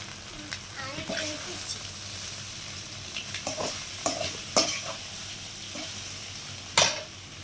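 Egg poriyal gets stirred and fried in a pan, soft sizzling broken by sharp spatula scrapes and taps against the metal, with quiet talking now and then.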